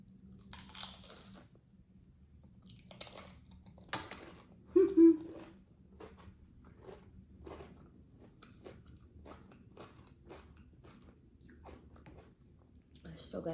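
Crunchy fried wontons bitten and chewed close up, with a few loud crisp crunches followed by softer, steady chewing clicks.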